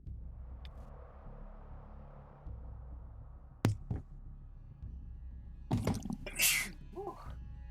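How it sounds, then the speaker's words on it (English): A single sharp sneeze comes through voice chat during an online team battle night, a brief loud burst against a quiet background, followed by other scattered noises. "Sneeze right there."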